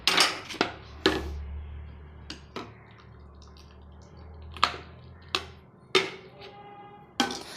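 Dishes and metal utensils clink and clatter sporadically in sharp, separate knocks, with a low running-water hum in between.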